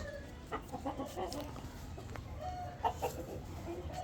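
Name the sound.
rooster clucking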